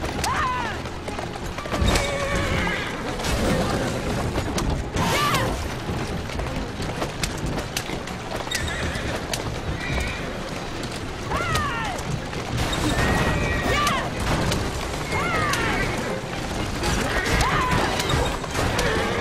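A horse-drawn cart in Assassin's Creed Syndicate, hooves clip-clopping with wheels rattling and horses neighing repeatedly, busy and loud, with occasional crashes and a voice speaking now and then.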